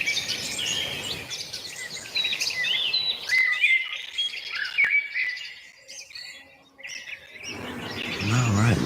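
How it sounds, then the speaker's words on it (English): A small bird chirps and tweets outdoors in quick, bright bursts that pause briefly before resuming, close and fairly loud, with some low rumbling noise toward the end. "All right, we got a bird."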